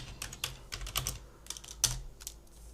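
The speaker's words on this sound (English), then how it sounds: "So press Tab and type scatter." A computer keyboard clacks in a short burst of about a dozen keystrokes, close and clear, with no voice.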